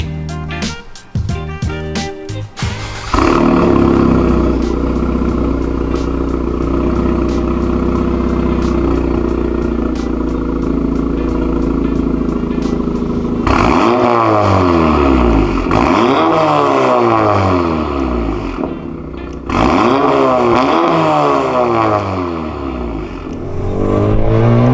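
A 10th-generation Honda Civic with an aftermarket race exhaust, close and loud, idling roughly before sharp revs climb and fall repeatedly, with the engine note rising and dropping through several throttle blips.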